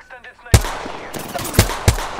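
Gunfire in the video game Apex Legends: a few sharp, loud shots spaced apart, following a brief quiet murmur of voice at the start.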